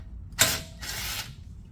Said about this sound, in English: I'm using an adapter to use this Robbie electrical ratchet